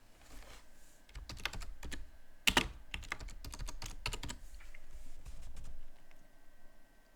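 Keys clatter in irregular bursts as a name is typed on a computer keyboard during a Linux Mint Debian Edition 6 setup, close and fairly quiet, with one louder keystroke cluster partway through and no talking.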